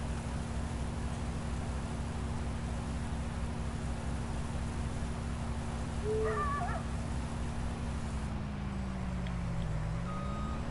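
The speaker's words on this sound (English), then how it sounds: "I'm sure people don't come on to watch my stream to just hear a bird make a racket" A bird hoots like an owl in the background. The brief, faint hoots come near the middle, over a constant low hum and hiss, with no talk.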